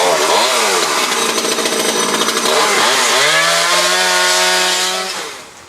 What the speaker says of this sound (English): he's getting his chainsaw ready, and he will start removing the brown fronds